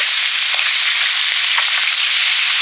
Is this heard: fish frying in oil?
yes